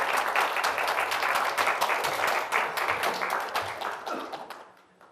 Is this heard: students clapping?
yes